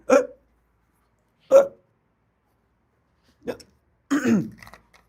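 A man hiccups four times at uneven intervals, short sharp gulping bursts separated by silence, with the last a bit longer and throatier.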